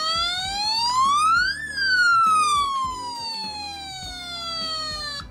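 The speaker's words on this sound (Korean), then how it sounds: "우렁찬 사이렌 소리." Loud siren from a DX K-Cops Duke Fire toy police robot with its front-grille switch pressed and its battery contacts sanded of corrosion, sweeping up then gliding down in a wailing tone, electronic and close, over faint background clatter.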